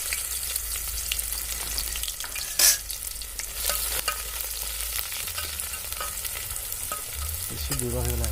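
Chicken frying in a pan at a riverside camp, a steady close sizzle with a spoon stirring and scraping through it and a few sharper clinks, and no talking.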